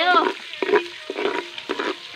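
Ingredients for pancit sauté in a pan at a campsite in Cebu City, giving short bursts of frying hiss and stirring as voices talk over them.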